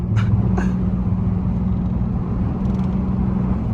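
A muffler-deleted Pontiac Grand Prix GT drones loud and low through a downshift, its deep steady exhaust rumble heard from inside the car, with a couple of brief sharp bursts near the start.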